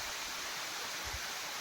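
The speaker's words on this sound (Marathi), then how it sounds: "आणि भामरागडवरून जवळपास 16 किलोमीटर अंतरावर हा धबधबा आहे" Dobbur waterfall near Bhamragad in Gadchiroli district, a steady broadband rush of falling water heard from a distance, constant and even with no voices.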